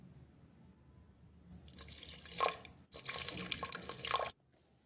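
Water poured from a tap into a pot for cooking mutton biryani, with two bursts of splashing, running water in close succession, the second longer and steadier, then a clean stop.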